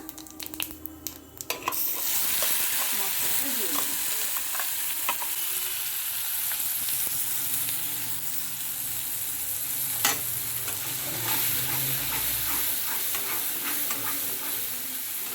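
Whole cumin hits a potol masala gravy in a pan: a few light clanks at first, then a loud, dense sizzle that bursts in and keeps crackling steadily to the end, without speech.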